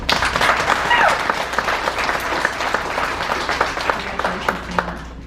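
An ice show audience at a figure skating club applauds loudly, dense clapping and crowd noise that gradually fades, with faint voices mixed in.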